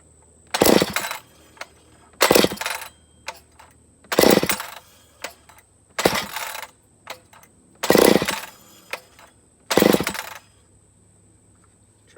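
A rebuilt McCulloch Pro Mac 850 chainsaw is cranked by its pull cord: six sharp, loud bursts of whirring come at roughly regular intervals, with small knocks and handling noise between them, and the engine never settles into running.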